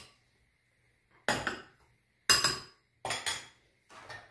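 A spoon knocks against a bowl four times in slow, evenly spaced clinks as tablespoons of sugar are added to two eggs for a génoise sponge batter. Each clink is quiet and close, with silence between.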